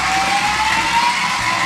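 Voice-controlled toy remote control car spinning out, a steady high electric motor whine that rises slightly in pitch, loud and close, with no talking.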